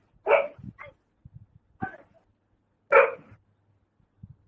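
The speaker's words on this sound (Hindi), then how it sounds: "इसका कुत्ता बोल रहा है" A dog gives a few short, fairly close barks separated by pauses, with quieter yips and noises between them.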